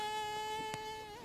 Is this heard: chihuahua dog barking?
no